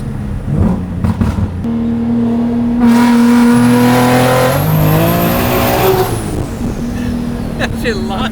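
A turbocharged BMW M3 engine revs hard and climbs through the gears, loud and close, with a high turbo whine rising over it and people talking underneath.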